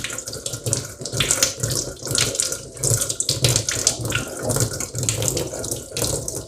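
An onion is washed under a running kitchen tap, water splashing steadily and fairly close with fluctuating gurgles as it's turned in the stream, no voices.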